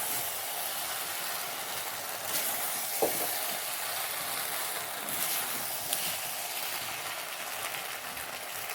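Soybean chilli mix with a little cabbage sautéed in a pan over medium gas, giving a steady broadband sizzle and hiss throughout, with a few faint clinks of stirring and no talk.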